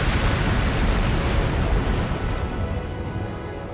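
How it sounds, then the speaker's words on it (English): A flashbang grenade goes off in a video game, a loud broad roaring burst that fills the clip and slowly dies away, with no voices over it. "Flashbang."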